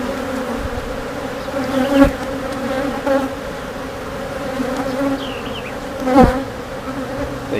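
Agitated honey bees swarming around an open hive during an inspection, a dense steady buzz close by, with individual insects whizzing past the listener now and then.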